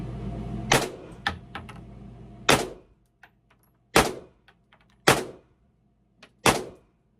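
Pistol gunfire at an indoor range: five loud, sharp reports spaced roughly a second or more apart, each with a short reverberant tail off the hard walls, and a few quieter clicks and handling noises between shots.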